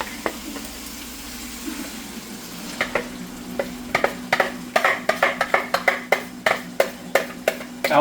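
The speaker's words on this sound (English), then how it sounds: "So we're going to give it a good mix." A spicy eggroll bowl mixture sizzling in a pan, with a soft frying hiss that gives way to a quick, regular series of utensil scrapes and clacks as it gets stirred, close up and without talking.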